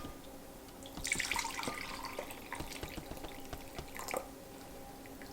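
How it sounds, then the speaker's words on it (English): Hot fat from a loaf pan of oven-cooked gyro meat being drained off, a steady liquid trickle and splash with a few louder pours and drips, close by and with no talking. "I'm going to drain off the fat."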